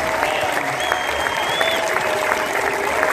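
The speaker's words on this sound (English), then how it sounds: "I think the volunteers deserve a round of applause" Crowd applause at a golf trophy ceremony for the Travelers Championship, steady close clapping from a large audience throughout.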